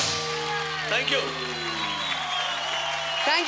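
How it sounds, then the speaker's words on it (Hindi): Audience applause on the Star Ya Rockstar TV music show stage after a performance, a steady wash of clapping under sustained musical tones and a brief voice, moderately loud throughout. "please give them big hand big hand जोरदार"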